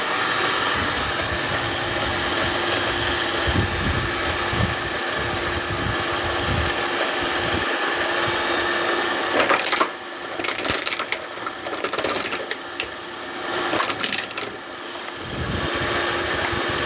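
A coconut grating machine runs steadily nearby, a continuous whirring motor drone with a bright mechanical buzz, briefly roughening and dipping as grating proceeds.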